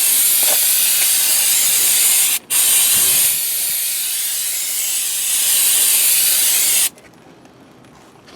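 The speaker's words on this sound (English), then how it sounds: "Clean it up real good with the spray." Brake cleaner sprays in a long, loud continuous hiss onto the front brake rotor of a 2004 Honda Accord, with a brief pause partway through before the spray resumes, then cuts off near the end.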